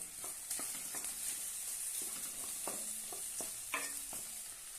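Chana and potatoes sautéing in a pan with chopped green chili, steady sizzling broken by several distinct stirring scrapes and clinks of a spoon against the pan, close and alone.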